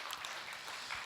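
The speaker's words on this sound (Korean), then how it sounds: "박수로 맞으세요." A brief stretch of audience clapping at a Buddhist monk's question-and-answer dharma talk, an even wash of many hands at moderate distance with no voices over it.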